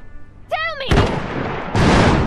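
Battle sounds from the game Iron Harvest: a loud boom of artillery and gunfire crashes in after a short shouted voice line, followed by a sustained roar of fire and another heavy burst.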